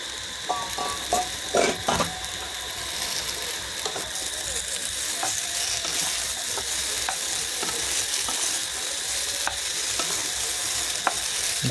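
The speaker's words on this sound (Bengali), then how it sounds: "ভালো করে ভেজে নিতে হবে" Drumsticks and potatoes fry for a home-style curry, giving a steady, close sizzle throughout, broken by occasional sharp clacks of a spoon stirring against the pan.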